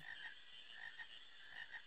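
Frogs croak in a Final Fantasy IX scene on PlayStation 1, a faint, rhythmic series of repeated croaks pulsing about twice a second over a quiet background.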